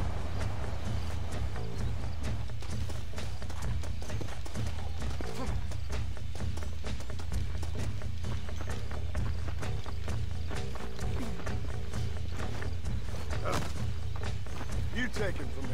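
John Marston's horse in the Western video game Red Dead Redemption walks and trots with repeated hoof clops and thuds, mixed under game sound and spoken dialogue throughout.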